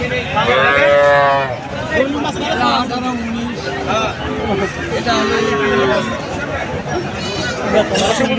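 Several cattle moo loudly and repeatedly, long drawn-out lowing calls over a busy crowd murmur of people talking nearby at a livestock market in Joypurhat, Bangladesh.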